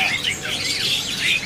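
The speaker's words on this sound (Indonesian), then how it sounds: "Pipi putih jantan ini udah pada bunyi." A male white-cheeked posengkong bird calls nearby in quick, squeaky chirps and rising-falling whistles, repeated several times in a short burst with light background noise.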